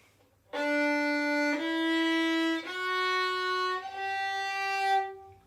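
A beginner's fiddle plays bowed notes with the third finger on the string, four sustained, clear tones in succession, each with a slight pitch change, alone and near.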